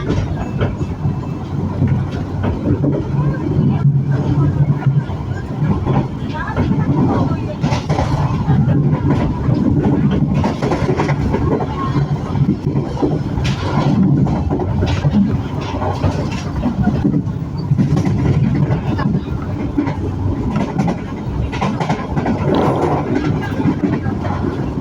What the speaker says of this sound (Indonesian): Kereta api Cikuray berhenti dan memasuki stasiun Bekasi teman-teman.